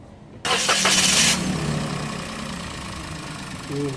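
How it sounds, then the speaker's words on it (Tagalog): A Toyota car engine cranks and catches with a burst, then settles into a rough, rattling idle that runs on steadily up close. "Pa-switch up ko itong makina tapos start ko yan ulit."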